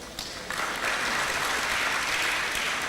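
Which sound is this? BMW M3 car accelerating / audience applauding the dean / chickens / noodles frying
audience applauding the dean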